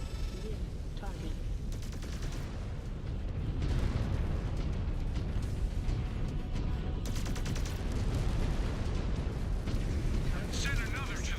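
A mech blows apart in MechWarrior 5, a continuous barrage of explosions and heavy gunfire rumbling under a speaking voice, swelling in the middle and again near the end.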